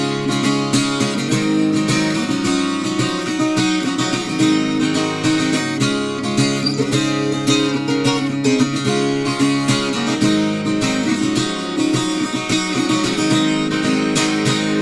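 Steady rhythmic acoustic guitar strumming of the pre-chorus of a song, loud and close with sharp percussive strokes and ringing chords throughout, played alone without voices.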